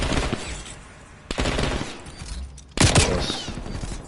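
A Stoner light machine gun fires in a Call of Duty game in rapid automatic bursts, with a sharp loud burst near the start and another heavy burst later, the rattling fire continuing between them.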